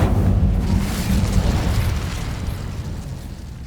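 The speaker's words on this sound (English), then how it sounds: "Incendio." An Incendio fire spell is cast in Hogwarts Legacy, a loud rumbling burst of flame that roars at first and then slowly fades away.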